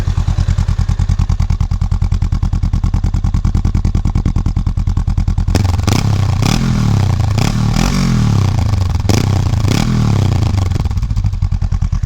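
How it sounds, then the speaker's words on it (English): A Honda Rebel motorcycle with a Shorty GP aftermarket exhaust runs close up with a rapid, steady exhaust putter; midway a rough, louder rumble with clattering joins in, continuing loudly throughout. "put the microphone next to the exhaust and get a little sound reading"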